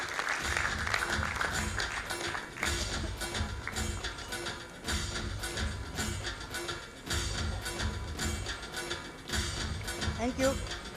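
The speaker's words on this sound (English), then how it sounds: "Let's give the outgoing board a round of applause for their remarkable leadership and dedication" Audience applause for an outgoing board at an awards and board installation ceremony, a steady wash of clapping lasting throughout with brief dips, amid a noisy hall where voices mix in.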